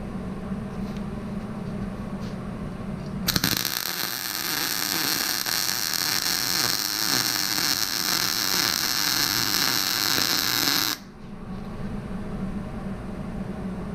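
Welding a fabricated motor mount for a hydraulic press: a steady, loud crackling hiss starts abruptly, runs for about eight seconds, then cuts off, leaving a low background hum before and after.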